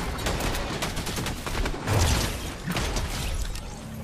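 Dense Fortnite gunfire from all sides: continuous overlapping shots and rapid bursts at varying distances form a loud, chaotic battle wash with no pauses.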